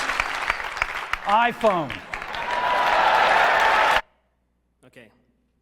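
Audience applause at a keynote product announcement, a broadband wash of clapping that swells and holds steady for a few seconds under a presenter's voice, then cuts off abruptly into silence.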